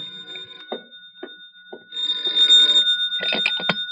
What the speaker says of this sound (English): when at 10:30 my phone rang.